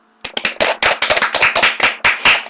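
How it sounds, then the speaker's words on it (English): Close hand clapping from one or two people in a quick run of about a dozen sharp claps, slightly uneven and loud, with no talk. "And a fast clap."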